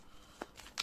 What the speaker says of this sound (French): on va faire une coupe.